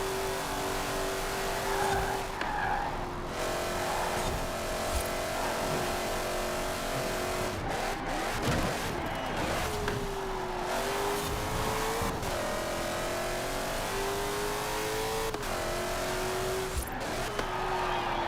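An S1-class race car in the Forza racing game roars at sustained high revs, its engine pitch rising and dipping through gear changes, with bursts of tire squeal and skidding through corners.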